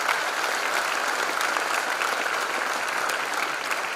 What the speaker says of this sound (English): Let's give a big applause to our Selvam sir.